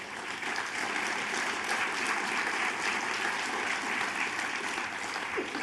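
Steady audience applause at a speaking event, a dense, even wash of many hands clapping, moderately loud and sustained throughout with no break.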